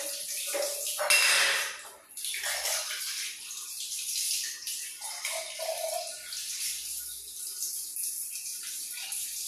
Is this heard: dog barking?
no